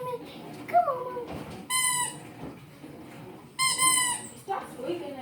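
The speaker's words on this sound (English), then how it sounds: "Stop squeaking it." A dog squeezes a squeaky toy, giving two loud, drawn-out squeaks with a harmonic tone, close to the microphone. Someone talks in between the squeaks.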